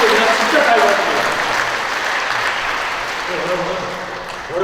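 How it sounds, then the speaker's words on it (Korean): A church congregation at a Holy Spirit seminar gives a big round of applause, a dense steady wash of many hands that fades slightly toward the end, with faint voices mixed in. "우리 하나님께 감사의 큰 박수 올려드리고요"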